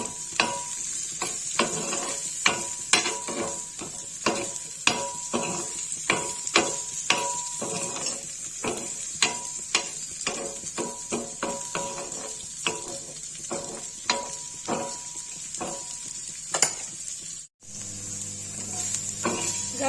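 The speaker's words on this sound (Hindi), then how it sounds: "प्याज अदरक लहसुन इसे भूंजेंगे तवे पे भूंज के तब इसकी प्यूरी बनाएंगे" Onion, ginger and garlic frying in oil on a tawa griddle, a steady sizzle punctuated by repeated sharp spatula scrapes and taps in an irregular rhythm, close and fairly loud.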